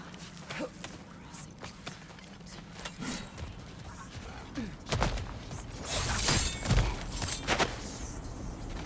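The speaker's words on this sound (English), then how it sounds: "A door." Heavy door mechanism in God of War Ragnarök, with creaking, grinding and clanking parts and thuds building up over several seconds, mixed with footsteps and movement sounds, no speech on top.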